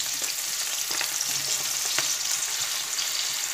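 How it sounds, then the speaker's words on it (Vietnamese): Slices of Vietnamese pork roll (giò) fry in hot oil in a pan, a steady close crackling sizzle with scattered pops running throughout, no voices. "Ok, mình đổ giò vào để ấy nhá."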